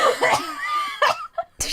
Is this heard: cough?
yes